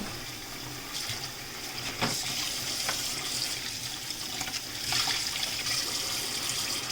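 A kitchen tap runs steadily into a sink while it is washed out, a continuous hissing splash with a few brief clatters and spikes along the way.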